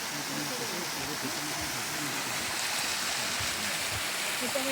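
Cold water pours and rushes at Sitting Bull Falls, a dense, constant roar close by that fills the whole stretch, with faint low murmurs of people beneath it.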